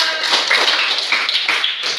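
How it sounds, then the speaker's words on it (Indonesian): A classroom of students claps for discussion group 2 after its presentation, a dense, steady patter of many hands close by with no voices. "Kita berikan tepuk tangan kepada"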